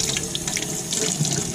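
Tap water runs steadily into a sink as razor clams are rinsed under it, a continuous close splashing hiss with no voices.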